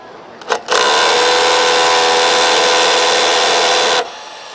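A Makita power tool with a built-in dust extraction vacuum runs in a loud, steady, high whine that starts abruptly after a brief click, holds for over three seconds, then cuts off, with no talk.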